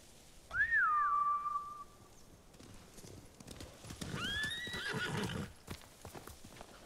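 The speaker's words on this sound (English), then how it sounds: "Bastards scared off the horses." Samurai mounts in the Ghost of Tsushima video game galloping off with clip-clopping hooves under two loud, clear neighs, one early and one later, with faint rustling between them.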